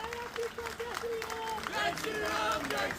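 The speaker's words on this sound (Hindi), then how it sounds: "एक बार जोरदार ये ताली बजती रहे थोड़ी देर तक।" A crowd at a Delhi political event applauds an MLA with sustained clapping under a loud voice on a microphone, the clapping swelling in the second half amid general crowd noise.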